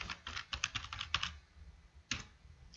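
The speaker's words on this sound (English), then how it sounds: "start typing your contact name" Someone types a contact name on a computer keyboard while adding a person to a Gmail contact group: a quick burst of close, crisp key clicks, a pause, then one more pair of keystrokes, with no talking.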